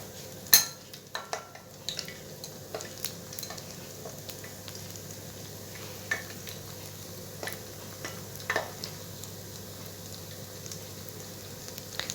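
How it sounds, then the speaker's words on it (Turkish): Soft crackling and sizzling of yeasted pişi dough frying in hot oil, with a few sharp clinks and taps of a utensil against the pan, no talking. "Bu şekilde her iki tarafını güzelce kızartacağım"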